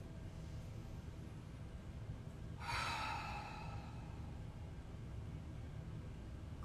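A single deep breath exhaled slowly through the mouth during a full-moon yoga flow, a soft airy rush lasting about a second, close and alone over quiet room hiss.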